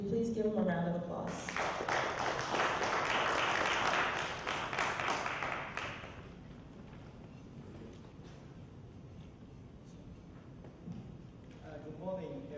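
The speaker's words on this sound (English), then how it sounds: "Can you please give him a round of applause?" An audience at a morning session of an international education conference applauds loudly as a Japanese ambassador to the United Nations is welcomed to the podium, the dense clapping swelling for several seconds before fading into room noise and murmuring.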